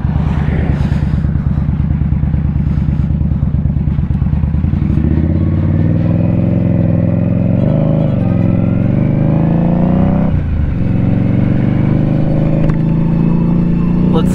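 A vehicle rolls onto a gravel road near the Tennessee and North Carolina line, its close engine droning loudly and shifting pitch, with a faint clatter from the loose surface underneath.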